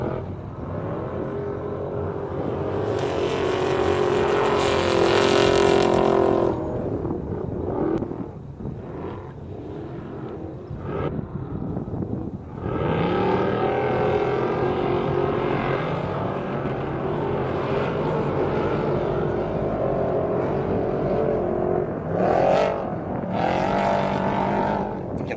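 Off-road racing trucks on a Baja Nevada qualifying course, engines roaring loud and near in bursts, then fading into quieter distant droning between passes, with no talk over it.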